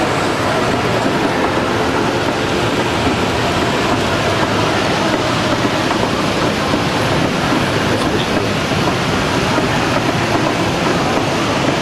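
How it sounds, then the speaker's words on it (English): A model train rumbles continuously along its track at a museum of science and industry, with a steady clattering roll, moderately loud throughout, with no voices. "So this is the train set that they have here."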